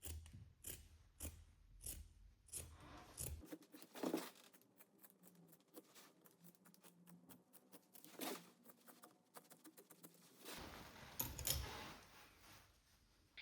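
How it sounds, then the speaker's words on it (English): Pinking shears snip through a fabric pocket bag for a coat welt pocket, a quick run of sharp crisp cuts, a pause of softer handling sounds, then another rapid burst of snipping, close and clear. "Now trim the pocket bag to the same size with pinking shears."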